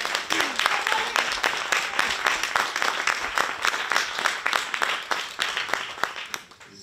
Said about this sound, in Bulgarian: Аз ще си позволя да ви помоля да ръкопляскате на Поли